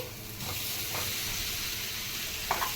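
Taro root pieces tumbling into a hot oiled pan already holding turmeric, chili powder and rock salt give a steady low sizzle, with a brief brighter burst of frying near the end.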